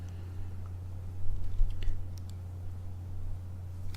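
Typing on a Mac computer keyboard: a short run of soft, quick key clicks, faint and close, over a steady low hum.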